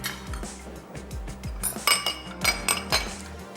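Metal spoon set down in a home kitchen while preparing a bread ring with cheesy vegetables, giving several bright, close clinks and taps against dishes over a few seconds with no talking.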